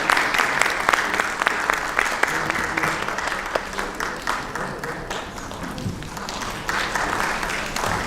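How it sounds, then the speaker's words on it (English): An audience applauds at an event on investing in motherhood: steady, dense clapping throughout, loud and close, with a voice speaking over it. "Can we have a round of applause for these lovely ladies here?"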